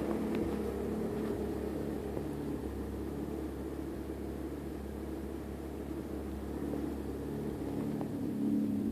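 A Honda F20B JDM P13 engine, fitted with a Spoon chip, idles with a steady, low, even drone and no other sounds over it.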